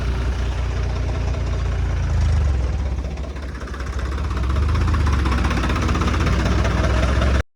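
A small tractor engine runs steadily at close range, a low chugging rumble that dips briefly midway before returning to full strength.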